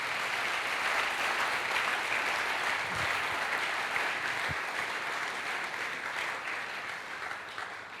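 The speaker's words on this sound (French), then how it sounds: "Est-ce que nous pouvons acclamer Jésus pour cela?" A church congregation claps throughout a worship service, producing a dense, sustained wash of applause that fades slightly toward the end, with no clear voices above it.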